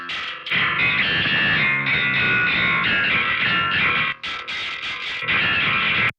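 A loud, gritty distorted bass guitar through a 1x15 cabinet simulator with a dynamic mic plays a sustained riff with brief breaks near the end, dense and buzzy throughout.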